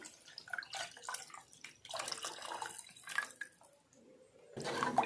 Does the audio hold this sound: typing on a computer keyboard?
no